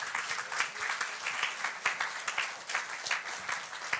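A church congregation at a Sunday worship service claps together in a dense, rhythmic burst of applause, heard fairly close, with steady pulses of many hands throughout.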